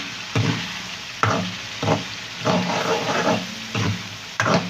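Chicken karahi with green chillies and coriander is stirred in a pan, each scrape giving a rough, close swish over a low sizzle in a rhythm of about six strokes.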